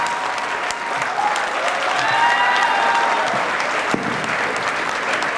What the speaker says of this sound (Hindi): आपकी जोरदार तालियां इस्तकबाल करें, अभिनंदन करें, स्वागत करें